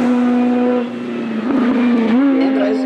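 An Audi 80 race car at a hillclimb holds a steady, droning engine note close by, with a slight rise in pitch near the end as it revs.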